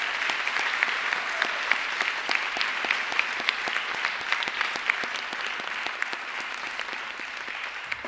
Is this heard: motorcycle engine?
no